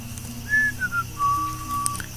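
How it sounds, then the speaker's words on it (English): Whistle in the game Towns signalling a boat trade caravan on its way, a series of sustained tones rising and falling over about two seconds, moderately loud above a low ambient game hum. "that whistle actually indicates that a caravan that's on its way to trade"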